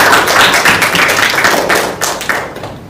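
An audience claps in a dense, steady burst of applause for a presentation group during a student teaching-practice session at UIN Imam Bonjol. The clapping stays fairly loud and close before thinning out toward the end.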